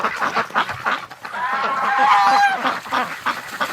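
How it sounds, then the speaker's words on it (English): Wintering ducks bathing in water on a warm winter afternoon, with a chorus of close, loud quacks and honks mixed with splashing. "the ducks are really enjoying this warm weather. Look at this, they're all taking baths."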